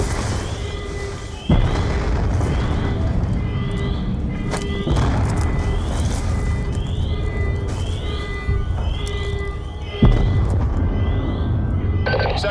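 Repeated heavy booms and blasts ripple across a military facility in the video game Call of Duty Black Ops 2, landing at intervals of a few seconds over a steady rumbling, alarm-like game soundscape.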